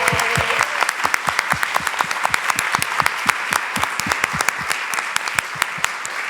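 An audience at a conversation event with author Celeste Ng claps; the sound starts as a dense wash, then thins into distinct, close, separate claps that continue steadily to the end.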